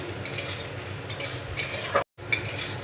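Semolina manchurian is stirred in a pan, giving soft scraping and scuffing strokes with faint sizzling, in a few bursts with a brief silent gap near the end.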